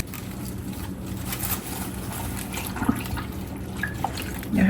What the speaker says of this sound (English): dunk it a few times. Get all the inside of this wet for the next step.